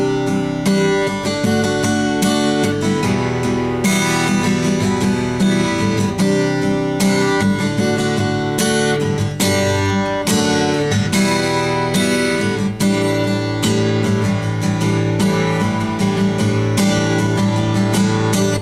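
Strummed guitar chords of the bridge of a song played slowly and steadily for a long stretch, full and close, with each chord change clearly separated.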